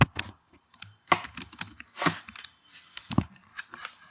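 Computer keyboard keys being typed during a class 11 programming practical, in irregular bursts of close clicks and clacks with short pauses, no voices.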